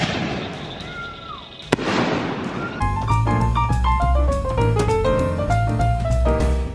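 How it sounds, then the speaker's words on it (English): Fireworks pop and crackle in a dense burst with one sharp bang, then give way to steady tonal music with a rhythmic beat. "picked up a bunch of malfunctioning fireworks or something like that"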